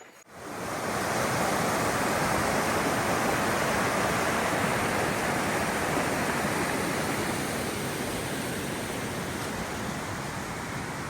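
A river flowing below a tramping track near the Tararua Range, a steady broadband rushing wash that starts abruptly and stays constant, heard alone.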